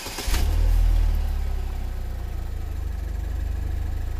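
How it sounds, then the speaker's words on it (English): A Pontiac Solstice engine fires up with a brief crank burst, then settles into a steady low idle that hums on close and fairly loud, with no talking. "Turn it off, pull the key out, start it back up."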